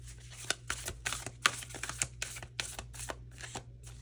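Starseed Oracle cards are riffled and shuffled in quick, crisp bursts, a close, papery flutter with repeated sharp slaps at an irregular rhythm.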